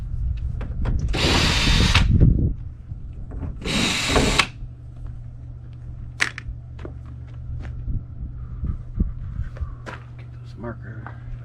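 Power drill driving screws during an RV teardown, two loud whirring bursts of a couple of seconds each early on, then light clicks and handling noises from tools and parts against a steady low hum.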